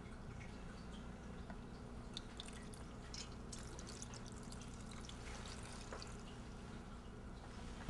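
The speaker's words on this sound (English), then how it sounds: "you're going to take the butter and you're going to pour it over the noodle" Melted butter drips and trickles over a bowl of noodles, a faint, close, continuous patter of small drops and splashes with no talking.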